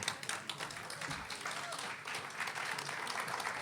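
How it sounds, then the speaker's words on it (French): A small audience at a music contest claps, a scattered, uneven round of applause with louder individual claps near the start, alongside faint voices. "Allez, un petit applaudissement."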